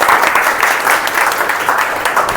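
Participants at a corporate training session clap loudly together for a short burst, the clapping pulsing slightly in waves over a couple of seconds.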